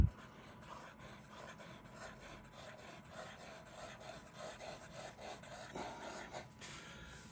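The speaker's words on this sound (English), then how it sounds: "It's writing very nicely indeed, which you would expect from a quality made pen." A Mentmore Autoflow fountain pen's nib scratches and glides steadily across paper, a soft continuous rubbing with small strokes and pauses, close and quiet.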